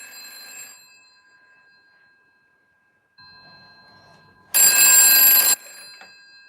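A single loud, close burst of bell ringing comes from a UK telephone on an internal PBX line, set between quieter stretches of faint background hum.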